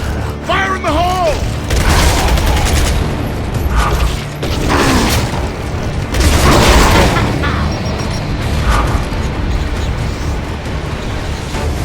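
Combat in Gears of War: Judgment around a thrown grenade: heavy booms and rumbling blasts with mechanical clanks, loud and close, mixed with shouted voices.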